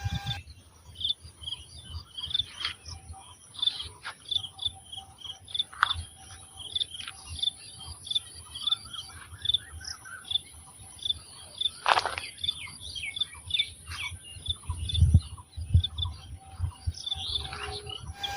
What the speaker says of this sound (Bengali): এই দিনের বেলা মানে ভর দুপুরে ঝিঝি পোকা ডাকছে।